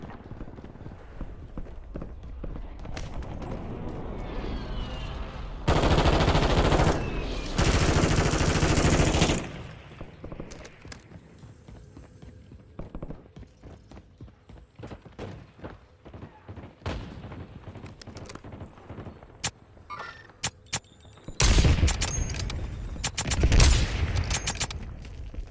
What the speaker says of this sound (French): J'ai fait des tirs.